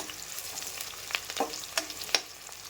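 Onion frying and browning in a pan for tomato rice, a quiet steady sizzle with a few soft stirring clicks and pops, no talking.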